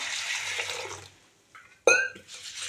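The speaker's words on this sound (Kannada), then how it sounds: "ಈಗ ಈ ಅವಲಕ್ಕಿಗೆ ಸ್ವಲ್ಪ ನೀರು ಹಾಕ್ಕೊಂಡೆ" Water splashes briefly into a bowl of flattened rice, a sharp wet pour after a quiet pause, with soft background noise before and after.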